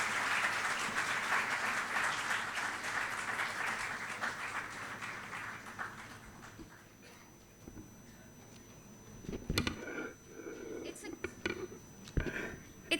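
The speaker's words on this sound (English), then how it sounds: "Please welcome them by a huge round of applause." Applause for honorable guests at a signing ceremony, dense at first, then thinning out around the middle, followed by scattered claps, clinks and murmurs.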